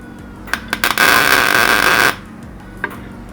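A welder strikes a tack weld on metal: a few short crackling bursts, then a sustained harsh buzzing arc for about a second, ending abruptly, followed by a brief click.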